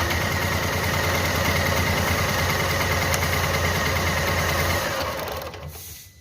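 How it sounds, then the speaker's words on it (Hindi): A Renault Kwid engine idles with its number two cylinder misfiring, giving a steady, rough, buzzing drone with a shaky vibration. It runs close and loud with no talk, then fades down near the end. "दो नंबर इसका काम नहीं कर रहा है सिलेंडर, क्योंकि 40 से ऊपर जाती नहीं है और एसी अगर चला देते हैं तो वाइब्रेट करके बंद हो जाती है"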